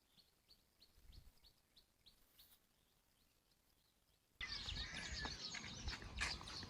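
Birds in a Chittagong tea garden give a regular series of short, faint chirps for the first few seconds, then a louder rush of broadband noise takes over and buries them.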